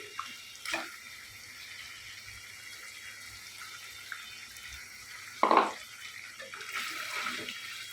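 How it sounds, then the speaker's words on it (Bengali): Water is poured into a pot of braising beef curry as it nears doneness, a brief splashing gush standing out over a quiet kitchen background, preceded by a faint clink. "এখন আমি হালকা করে একটু জল দিয়ে দিব যাতে পুরোপুরি সিদ্ধ হয়ে যায়"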